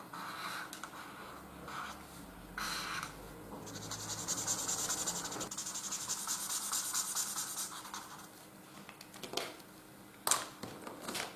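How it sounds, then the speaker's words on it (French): A dark grey marker colours in part of a drawing, giving quiet, continuous scratchy strokes on paper that rise and fall in rhythm, with a few brief taps and rustles near the end. "J'utilise mon gris foncé pour colorier toute la partie ici."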